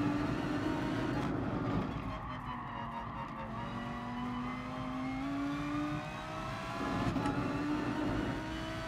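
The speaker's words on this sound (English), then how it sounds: "Doesn't sound like an AMG because it's not. It's a R8." An Audi R8 race car in GT Sport roars at high revs in a continuous, loud engine drone, its pitch sliding through gear changes with tire noise underneath, and no voices.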